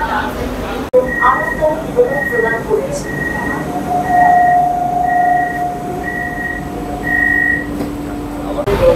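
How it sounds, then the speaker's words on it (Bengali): An air-conditioned local train on its inaugural run from Sealdah towards Ranaghat rumbles steadily from inside the carriage, with sustained tonal whines and a few clunks, while people talk. "ফাইনালি শিয়ালদা থেকে রানাঘাটের পথে আমাদের এই এসি লোকাল ট্রেন তার উদ্বোধন যাত্রা শুরু করে দিল"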